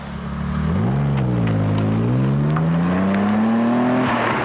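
A BMW 535i car drives past with a smooth straight-six drone, dipping then climbing steadily in pitch as it accelerates, loud and close with no talk.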